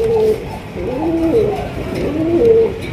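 Pigeons in a cage coo up close, repeating soft, low, rolling calls steadily with no talking.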